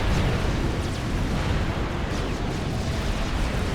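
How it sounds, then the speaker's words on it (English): Supreme Commander strategic bomber run on a main base: a loud, dense roar of continuous explosions and rumbling blasts, broad and unbroken from start to finish. "Strat bomber in on the main base."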